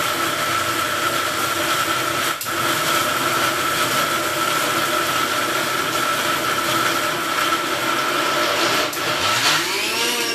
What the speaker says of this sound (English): We want this into a nice fine paste, so I'm going to grind this well.